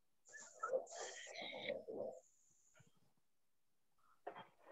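Recorded dog sounds played back in a classroom: a few short, yappy barks and whines in quick succession, then a pause and one more brief bark, fairly faint.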